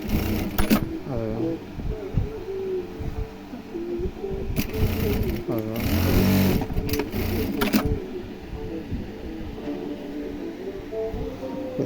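Sewing machine running in its double stitching mode, uneven bursts of whirring stitch noise mixed with clicks and handling sounds, close by, while a person talks over it.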